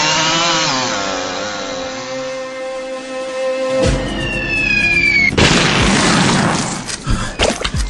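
A chainsaw in the video game Frequency Lite snarls with a buzzing, rising motor whine, then a loud crashing burst takes over and ends in sharp impacts.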